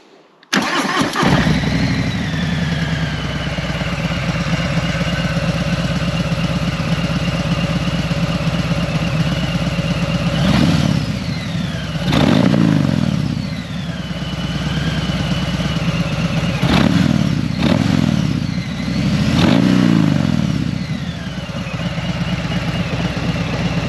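A 2018 Harley-Davidson Fat Bob V-twin with Vance and Hines slip-on exhausts fires up and idles with a deep, loping exhaust rumble, punctuated by several sharp throttle blips that rise and fall.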